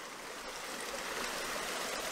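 Creek water flowing steadily, a continuous soft rushing and babbling with no voices, even and moderately quiet throughout.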